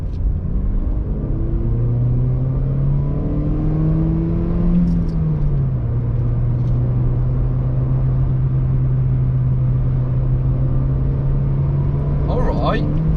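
A 2016 Ford Fiesta with a 1.2 litre engine accelerates in second gear, a steady droning engine tone that climbs in pitch, drops briefly, then holds, over a constant cabin rumble.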